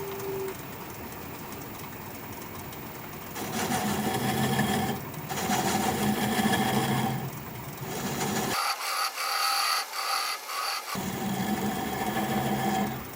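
A wood lathe spins an acacia live-edge bowl at low speed while a bowl gouge cuts it, making a continuous droning whir with a steady mechanical hum that rises and falls in intensity as the tool engages, with no voices.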